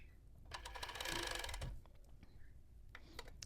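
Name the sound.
sewing machine stitching elastic onto a tank top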